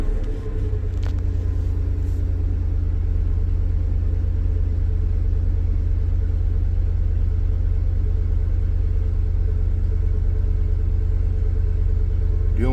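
A 1996 Chevrolet S10's 4.3 V6 with Holley Sniper fuel injection idles on a cold start with a loud, steady, deep rumble that holds unchanged throughout.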